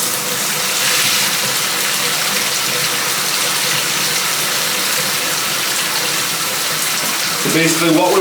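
Water from a running shower pours steadily into a bathtub, a loud, continuous splashing rush that holds for the whole stretch, with a brief change in the flow near the end.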